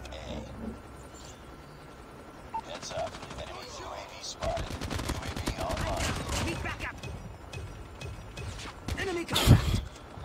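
Rapid bursts of Annihilator gunfire in the Call of Duty Mobile video game, loud sharp shots over a busy mix of game sounds, with a strong burst near the end.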